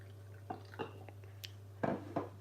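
Water poured from a container onto salt in a vessel, heard as a few faint, brief splashing drips spaced over a couple of seconds against a quiet background.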